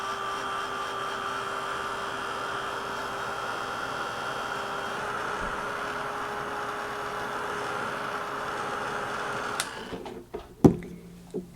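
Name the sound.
heat embossing tool blowing hot air to emboss a card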